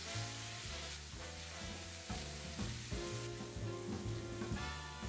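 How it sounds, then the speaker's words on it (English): Ground chicken sizzles steadily in ghee in a pan as sauce is stirred in, a continuous close frying hiss under low background music. "add all of your sauce and stir it in well"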